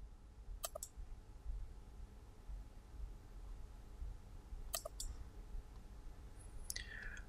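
Computer mouse double-clicks sound while working in SPSS statistics software: a few sparse, faint clicks in quick pairs against a quiet room background.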